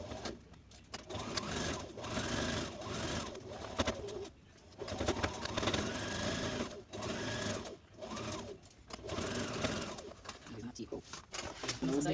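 A sewing machine stitching the seams of a red zip-front jumpsuit, running in long rapid bursts with brief pauses between them, while someone talks over it and pigeons coo in the background.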